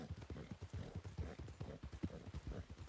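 Repeated clip-clop of horse hooves cantering in a Red Dead Online style game, Turkmen and Foxtrotter horses ridden together in a patrol; a steady, slightly uneven rhythm of thuds close by, with no talking.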